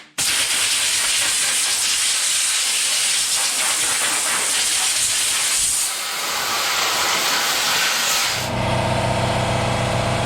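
Compressed air hisses loudly and continuously as it blows dust off Stihl MS 250 and Homelite Super Mini XL chainsaws, the tone shifting partway through and changing again near the end.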